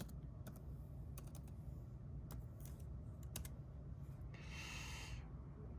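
A Wi-Fi password is typed on a MacBook keyboard as a scattered series of soft, close key clicks over a low steady room hum, with a brief brighter rustle near the end.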